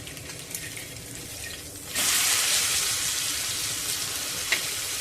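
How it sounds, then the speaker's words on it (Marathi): Lady fish coated in homemade spices fries in hot oil on a low flame for a crispy Agri-style dish. A soft hiss swells suddenly into a steady, loud sizzle that carries on alone. "तर आता हे मंद आचेवर आपण 3 ते 4 मिनिटं फ्राय करून घेऊया।"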